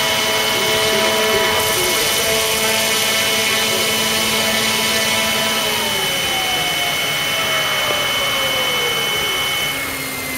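A radio-controlled TF model Seahawk helicopter with a DJI GPS autopilot and individual tail motor drive, its rotors and motors whining loudly and steadily nearby, the pitch sliding gradually lower as it settles.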